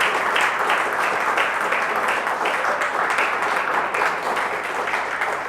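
A crowd at a church gathering gives dense, loud, sustained applause throughout, with no break in the clapping.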